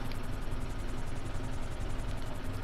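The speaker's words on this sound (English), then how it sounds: "This is our first time flying a helicopter" A helicopter flies in the GTA 5 video game, giving a steady, dense rotor whir and roar that stays constant throughout with no talking.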